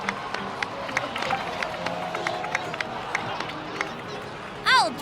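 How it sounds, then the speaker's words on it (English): A crowd in Genshin Impact cheers and claps steadily in the background, a busy mix of many voices and scattered claps at moderate level, with speech over it and a brief rising tone near the end. "please give another round of applause for them"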